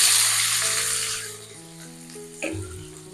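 Two large chopped onions and a bay leaf hit hot oil in a kadai, starting with a loud hiss that fades, then a brief fresh burst of sizzling, with music playing underneath.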